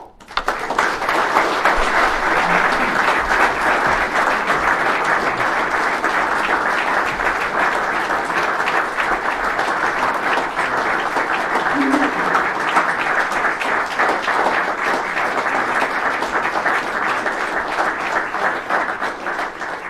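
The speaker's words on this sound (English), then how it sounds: "Longest applause we've ever had for anyone here." A long, sustained ovation from a large audience follows the end of Nikki Haley's speech, a steady roar of many hands clapping that holds at full loudness for the whole stretch with no pause.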